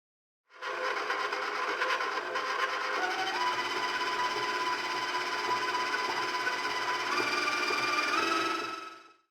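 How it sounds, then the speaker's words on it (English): Stand mixer beating butter, vanilla, powdered sugar and almond flour into shortbread dough, a steady motor whir with a faint rhythmic churning that starts abruptly, runs continuously up close, then stops. "Today I'm using a stand mixer because I have one"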